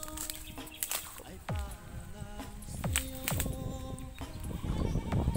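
Several goats bleat in wavering calls from a rural field where there are no houses, with insects buzzing steadily in the background.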